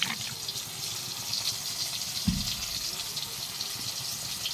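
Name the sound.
water poured onto cumin and coriander powder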